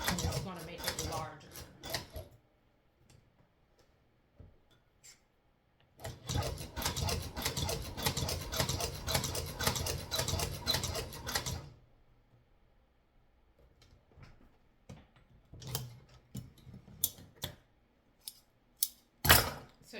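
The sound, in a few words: leather sewing machine stitching with changing stitch length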